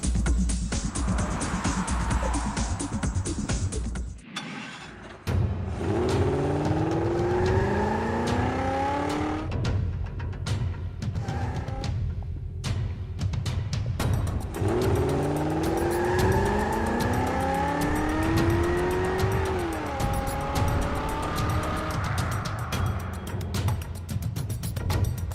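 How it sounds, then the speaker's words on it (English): Race cars on a figure-eight course at Swartkops, loud and close, with engines revving hard and rising through gears, tires squealing and skidding, then a brief drop before renewed acceleration and more screeching. "And Nonhle and Nicole drop the clutch to see who'll be crowned Swartkops."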